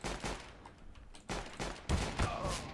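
Gunfire in a Counter-Strike-style first-person shooter match, several sharp bursts of shots at close range spaced across a few seconds, heard alone without talk.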